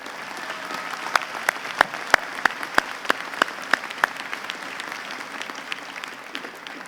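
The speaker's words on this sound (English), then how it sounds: "Let's thank this group with a round of applause." An audience at a college commencement claps in a short round of applause: crisp, scattered claps spaced through a hall, rising then thinning out.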